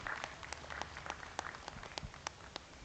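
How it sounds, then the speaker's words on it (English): Sparse, faint applause from a small audience at an open Boer goat show at a national livestock stock show, a few scattered claps over a quiet, distant room tone. "let's give our full-blood exhibitors a nice round of applause"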